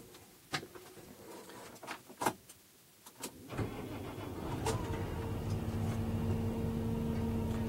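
A modern tractor is started: a few clicks and knocks from the cab, then the diesel engine cranks and catches, settling into a steady, loud idle hum that continues to the end.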